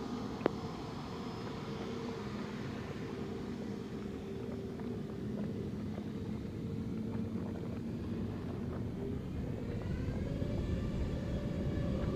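A jet airliner taking off from a runway at Sangster International Airport in Montego Bay, Jamaica, a steady continuous engine roar with low rumble that holds for the whole stretch and swells slightly louder toward the end, with no talk.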